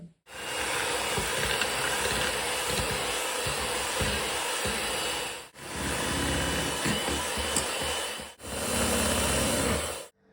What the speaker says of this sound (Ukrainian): добренько міксером зараз будемо все взбивати